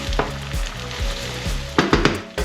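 Chopped peppers, carrot and onion fry in extra virgin olive oil in a pan, a loud steady sizzle broken by repeated stirring clatters.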